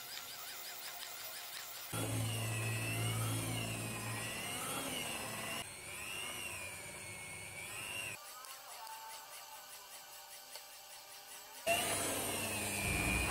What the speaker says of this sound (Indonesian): Mixer selama kurang lebih 15 menit speed 3 sampai dengan speed 4